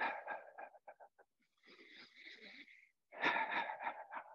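Audible breaths during a yoga movement: faint, airy inhalations in short uneven pulses, then a longer, stronger breath near the end, with no talking.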